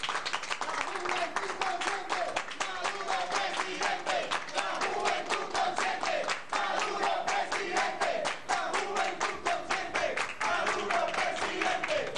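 A crowd at a political youth rally in Venezuela claps rhythmically and loudly, dense sustained applause with fast regular beats and voices mixed in.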